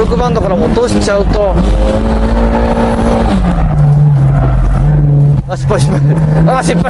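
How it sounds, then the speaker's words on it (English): A drift car's engine revs hard and keeps climbing, held high in the torque band with shifting pitch and bursts of throttle. It is loud and close, with a voice talking over the engine. "You have to keep revving it within the torque band."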